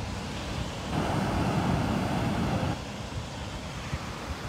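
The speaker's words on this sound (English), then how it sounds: "Great waves tonight." Ocean surf rolls in at night under gusty wind, a steady broad wash that swells louder for a couple of seconds before easing back, with no talk.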